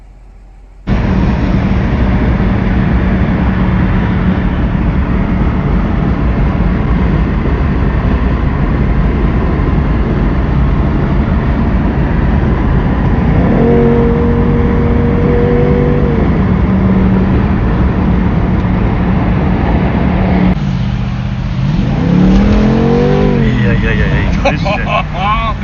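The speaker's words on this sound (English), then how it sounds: "let's start the engine and we will see us on the road again" A BMW M850i V8 (G15) engine starts after a brief quiet and settles into a deep, steady rumble, with revving swells rising and falling and a final surge of acceleration.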